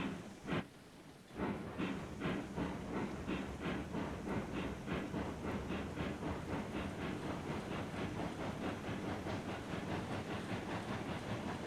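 A steam locomotive in the Railroads Online game chuffs steadily after a brief pause, its rhythmic exhaust beats repeating evenly and loudly throughout with no talking.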